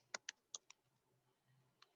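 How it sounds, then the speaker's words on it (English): Soft keystrokes on a computer keyboard while figures are entered into a spreadsheet: four quick taps close together, a pause in a near-silent room, then one more isolated tap. "I'm typing it in"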